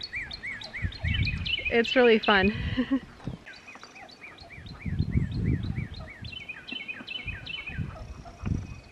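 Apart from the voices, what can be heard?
birds singing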